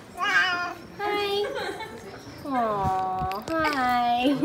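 A cat meows repeatedly in a small town in Italy or Switzerland, four drawn-out, fairly close meows in a row, with soft voices greeting it around them.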